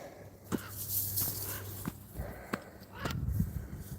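Crows caw outdoors in a park, several short calls scattered at a moderate distance over faint footsteps and background ambience.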